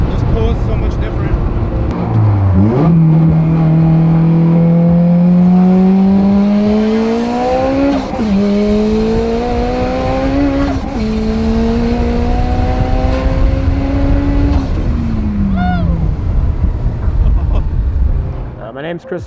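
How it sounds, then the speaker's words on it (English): A turbocharged, built Honda K20 Z3 engine swapped into a 2005 Lotus Elise widebody revs hard, its pitch climbing through several sweeping pulls with brief dips between shifts, loud and close, with a voice talking over it. "this is my 2005 Lotus Elise turbo K-swapped"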